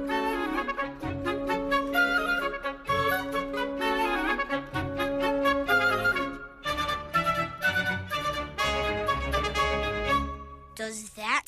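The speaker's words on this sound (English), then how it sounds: "Listen to the buoys in the Indian Ocean." Cartoon buoys ring in the Indian Ocean in Little Einsteins, a lively, busy run of chiming bell-like notes over low accompanying tones, played in quick repeated phrases without speech.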